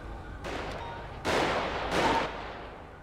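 Gunfire in a GTA-style video game police shootout against a Sultan car, heard as a few loud, rapid bursts of shots that come close together over a steady background.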